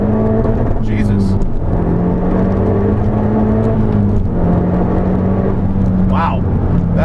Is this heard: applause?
no